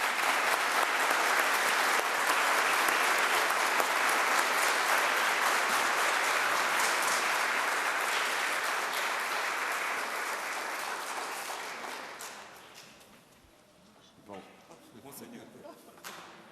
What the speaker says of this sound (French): exprimons notre joie pour votre nouveau pasteur en lui donnant une bonne main d'applaudissements